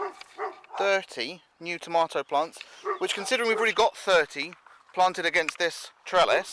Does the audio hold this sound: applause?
no